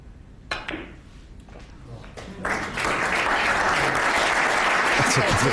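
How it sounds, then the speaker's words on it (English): Generous audience applause in a snooker arena after a difficult pot, a few scattered claps swelling into a full, sustained round of clapping close by. "That wasn't an easy pot and deserved the generous round of applause."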